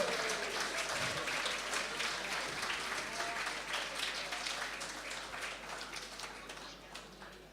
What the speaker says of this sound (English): Let's give all 8 contestants a huge round of applause to show your appreciation.